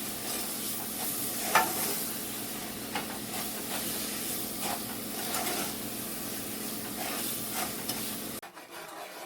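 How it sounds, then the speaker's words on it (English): A spoon stirs white sugar and a third cup of water together in a pot, producing steady close scraping and swishing strokes in a regular rhythm for several seconds before stopping abruptly. "I'm going to mix that in until it dissolves."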